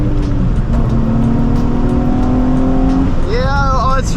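A Nissan 350Z engine pulls hard in second gear, a loud steady drone that rises in pitch and then climbs sharply again near the end, heard from inside the car.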